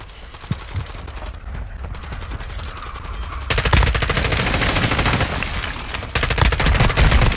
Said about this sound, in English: Oh, someone else is shooting me.